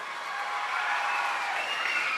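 Steady, dense applause from a live audience at a Tamil stage talk show, a continuous wash of clapping at moderate level with no break or voices over it.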